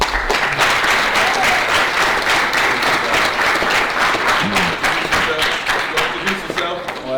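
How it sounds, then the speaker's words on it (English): Sustained, loud applause from an audience for a speaker at a boys' home event, dense clapping lasting about seven seconds with some crowd murmur underneath. "So give him a round of applause."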